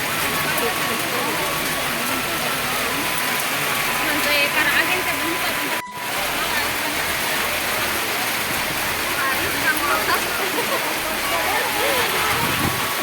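Rain falls steadily outdoors in rural Chhattisgarh, a dense, continuous hiss and patter filling the scene at a constant level, with one brief dropout partway through.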